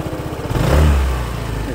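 A 2023 Honda Forza 125 scooter engine idles close by with a low, even putter that swells into a brief rev before settling back to a steady run.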